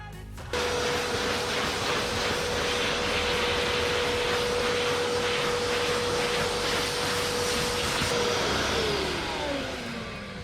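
A vacuum cleaner runs steadily while dusting a Sportina 595 sailboat, a loud continuous motor whine that starts abruptly, holds for several seconds, then winds down with a falling pitch.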